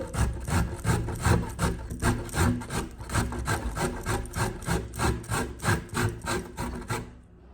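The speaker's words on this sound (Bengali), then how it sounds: "গাজরগুলোকে কুড়ে নিচ্ছি।" Carrots being grated for carrot halwa, a steady rhythmic rasping of about two strokes per second that runs close and loud for several seconds before stopping, with no talking.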